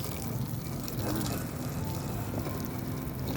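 A long garden hose runs strongly, a steady broadband rush of water close by that continues without pause for a few seconds.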